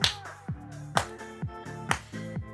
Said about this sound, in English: If it's getting hard, clap.